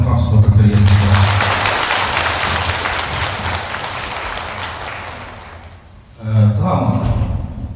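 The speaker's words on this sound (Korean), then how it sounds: "다시 한번 큰 박수 부탁드리겠습니다" Sustained audience applause at a Buddhist temple ceremony celebrating the publication of the Avatamsaka Sutra, a dense wash of clapping that gradually fades, then a voice speaks over a microphone near the end.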